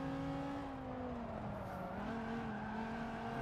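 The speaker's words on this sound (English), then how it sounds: "Nice little trail braking drift" A race car in Forza Motorsport 7 drifts under trail braking, engine droning steadily while tires squeal faintly through the turn, with no voices.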